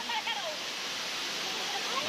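A mountain river flows with a steady, full rush of water, close and continuous throughout, with voices faintly audible beneath.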